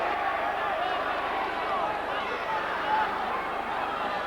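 A rugby league crowd at a 1999 Wakefield match boos a try, a steady broad roar of disapproval filling the stadium without pause, with a voice faintly audible beneath it.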